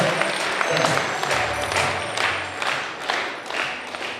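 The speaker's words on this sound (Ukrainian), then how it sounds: "Под ваши бурные аплодисменты." Loud, sustained applause from an audience at a televised festival event, with dense clapping that swells and ebbs for several seconds without a break, heard on its own.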